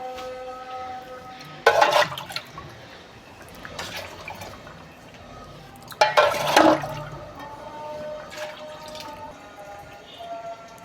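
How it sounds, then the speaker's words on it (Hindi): Water goes into a pot of soaked sella rice for pulao, two loud splashing pours a few seconds apart with softer trickles and drips between them, and no talk. "अब मैं इसमें 3 से 4 गिलास पानी डालूंगी।"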